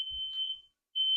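A household fire alarm in a snowy-weather US home sounds off again: two loud, piercing, steady beeps, the first lasting about half a second, then a brief silence before the second begins.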